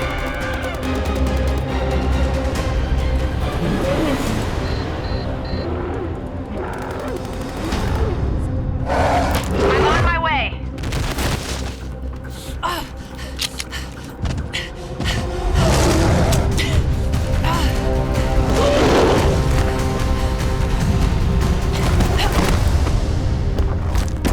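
Gunfire and explosions from an action movie battle scene with a giant ape and monster. Loud booming blasts and heavy thuds repeat over a continuous rumble, with brief shouts and gasps mixed in.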